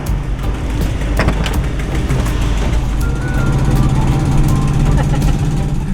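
Inside a moving vintage RV, a loud engine drone fills the cabin, with a rapid repeating tick from the engine riding on the rumble and voices heard over it.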